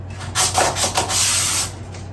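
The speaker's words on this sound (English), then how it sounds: "just sanding lightly." A sanding block rubs lightly over a painted laminate countertop, making a few soft, close scratchy strokes in short bursts with brief pauses between them.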